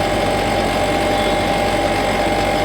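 A motorbike engine running steadily on a city street, a loud, continuous idling drone with a constant mechanical hum and no break across the short stretch.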